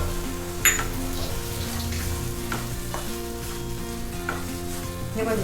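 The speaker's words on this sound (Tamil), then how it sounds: "இப்போ நல்ல நெய்யை வதக்கிக்கலாம். இப்போ வந்து ரவை போட்டுக்கலாம், அரை கப் ரவை." Half a cup of semolina sizzles in hot ghee in a pan while being stirred for gram dal sooji halwa. There is a steady loud frying hiss with occasional scrapes and clinks of the spoon, and no talking.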